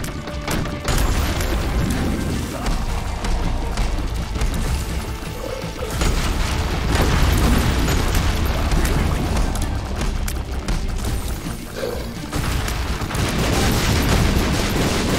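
Explosions and booming blasts in The Binding of Isaac: Repentance, dense and continuous under busy game sound effects and music, loud throughout with repeated thuddy impacts.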